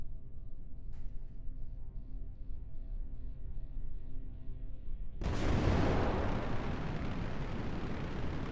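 Rocket launching in Kerbal Space Program, a faint hum giving way to a sudden roaring engine blast that swells into a dense, sustained rumble.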